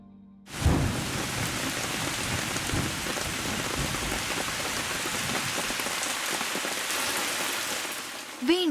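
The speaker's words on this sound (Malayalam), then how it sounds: "പ്രതീക്ഷിക്കാതെ പെയ്ത മഴയിൽ ആ കായ നനഞ്ഞു കുതിർന്നു" A heavy rain shower starts suddenly with a low thunder rumble, then keeps up a steady, dense hiss of drops hitting surfaces in a garden for several seconds before easing at the end.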